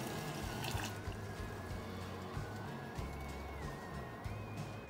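Homemade sugar water being poured into a 30-ounce hummingbird feeder, a soft, faint trickle and drip of liquid with a small splash, close by and quiet.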